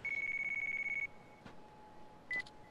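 Electronic telephone ringtone in the video game Yakuza Kiwami: a steady, rapidly pulsing beep tone that lasts about a second, a pause, then a second short burst, clear and close with no talking.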